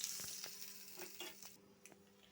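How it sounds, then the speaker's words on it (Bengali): Dried red chili and panch phoron five-spice seeds hit hot oil left from frying small fish, giving a faint, steady sizzle broken by a few sharp crackles and pops, with no voices. "ওই তেলে মা ফোড়ন দিচ্ছে। কি দিচ্ছ? একটা শুকনো লঙ্কা আর একটু পাঁচ ফোড়ন দিল"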